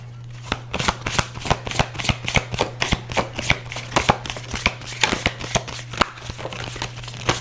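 A deck of cards is shuffled repeatedly, producing a quick run of crisp riffling bursts and snaps in a fairly regular rhythm, close and clear, over a faint steady hum.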